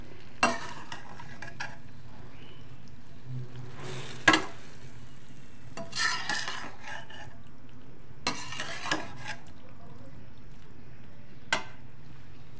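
Macaroni cooks in a pan with white vinegar and soy sauce, giving a low sizzle broken by occasional stirring scrapes and utensil knocks, with no talking.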